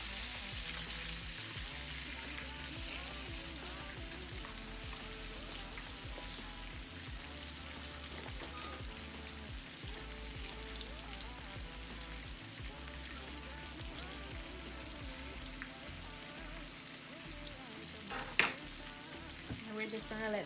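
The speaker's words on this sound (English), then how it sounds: "And we're just gonna let this fry for a bit." BBQ chicken frying in a pan at home, a steady close crackling sizzle that runs unbroken throughout with faint pops and one brief clatter near the end, no talking.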